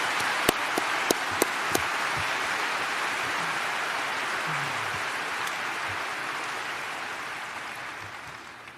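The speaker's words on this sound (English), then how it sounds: "Now you can applaud." Audience applause at the Berkshire Hathaway 2019 shareholder meeting, a broad, steady wash of clapping from a large crowd that holds throughout and slowly fades toward the end, with a few sharper claps near the start.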